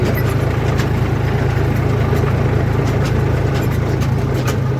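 A Mahindra 265 tractor engine runs steadily at a constant low drone, close and continuous throughout, with road and wind noise mixed in on the way to a sugarcane mill.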